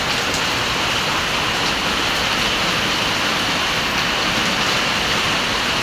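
Heavy rain pours steadily throughout, a dense, unbroken hiss of drops hitting surfaces close by, with no voices.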